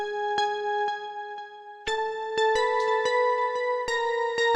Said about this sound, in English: I added a reverb, a delay to it rather, to make it sound Nice.